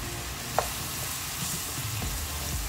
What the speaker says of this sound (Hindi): उसके साथ ही हम लोग बस ये प्याज इसमें डाल देंगे